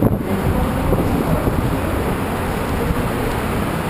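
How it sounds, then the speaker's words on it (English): Strong wind buffets a GoPro camera microphone outdoors between hotels, a loud, steady roaring rumble that fills the whole stretch with no break. "I don't know if you can hear me now with all the wind."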